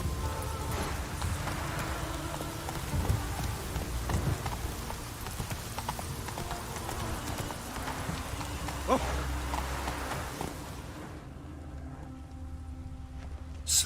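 Hooves of Roach, a horse in The Witcher 3, clip-clop at a fast gallop in a steady rhythm, close and continuous, with faint background game ambience before the sound cuts off near the end.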